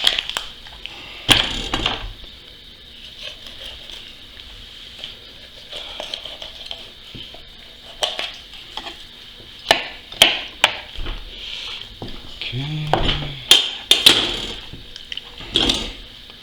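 Boning knife working through duck legs for confit, close wet cutting and crunching at the joints with scattered knocks and drips, intermittent and without talk.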